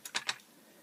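A plastic ratchet joint in the arm of a Warbotron Bruticus toy gives two or three quick, light clicks close up, followed by quiet.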